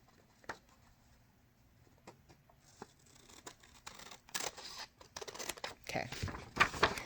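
Scissors trim paper sewing pattern pages for a handbag, a few sparse snips at first, then a quickening run of crisp cuts and paper rustles close by.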